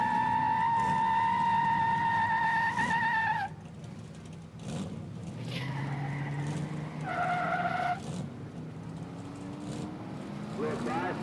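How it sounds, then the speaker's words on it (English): A Chrysler race car launches off the line at a drag race, with a loud tire squeal and a rising engine whine up close, while an announcer's voice talks over it. "Little Chrysler car out of the gate real good."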